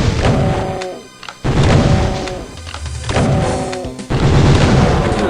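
Repeated booming shots from a weapon firing at a demon in the Doom map Valiant, loud and close, in several bursts with brief pauses, mixed with game effects and no talking.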